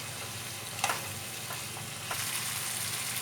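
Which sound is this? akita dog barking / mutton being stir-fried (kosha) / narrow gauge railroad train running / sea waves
mutton being stir-fried (kosha)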